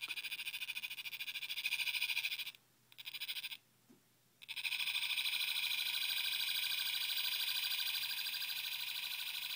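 A PEMF coil pulsing at around 13 hertz gives a faint, steady rapid clicking buzz that runs continuously, cuts out briefly twice, then resumes at the same even rate, alone without voices.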